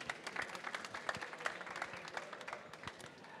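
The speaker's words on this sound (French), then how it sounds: "Sylvain Aubert, on l'applaudit très fort" An audience at an artisans' awards ceremony claps for a prize winner, a brisk burst of many hands with sharp individual claps standing out, loud and close.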